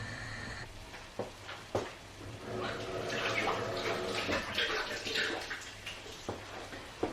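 Hot water and just-boiled vegetables poured from a pan through a tiny sieve into a kitchen sink, a steady rushing splash that swells midway and is broken by a few sharp metallic knocks.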